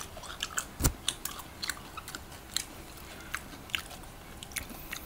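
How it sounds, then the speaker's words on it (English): Biting and chewing spicy chicken adobo with crispy fried chicken skin, close crunchy bites with one loud bite early, then quieter repeated chews, no talking. "first bite"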